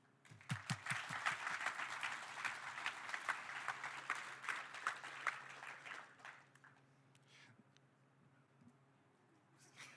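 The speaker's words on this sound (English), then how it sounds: "we will give them an applause in absentia" A conference audience in a main-stage tent claps for absent volunteers, with sharp, distinct claps that build, hold for several seconds, then thin out and fade to a few scattered hands.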